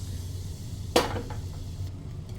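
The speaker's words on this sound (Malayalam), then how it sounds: "ഇനി എണ്ണ നന്നായി ചൂടായി വന്നു കഴിയുമ്പോൾ നമ്മൾ നേരത്തെ റെഡിയാക്കി വെച്ചിരിക്കുന്ന ഇഞ്ചി അതിലേക്ക് ചേർത്ത് കൊടുക്കുക" Ginger dropped into hot oil in a pan for Kerala puli inji, a single sharp clatter and splash followed by a quiet sizzle over a low steady kitchen hum, close and without speech.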